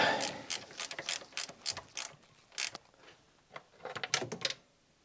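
A ratchet tightening a bolt on ignition parts of a Nissan Micra K11 that cranks but won't start, quick bursts of rapid clicking separated by short pauses, close and crisp, without speech.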